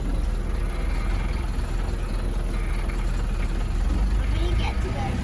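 DIY camper van engine drones low and steady while driving along a narrow forest lane, a continuous rumble with road noise and people talking over it.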